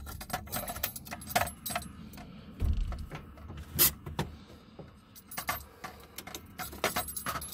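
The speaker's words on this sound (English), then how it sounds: "Wrong key" A ring of keys jangles and clinks in irregular bursts inside a 1986 turbo Toyota custom cab pickup with a 22R-TE engine as the right ignition key is sought, with light knocks and rattles between.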